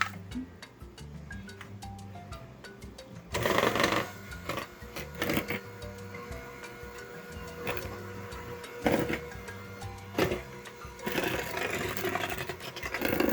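An electric mixer whirs on low speed blending no-bake cheesecake filling, a steady mechanical buzz with rattling scrapes that grows louder partway through and continues with uneven bumps.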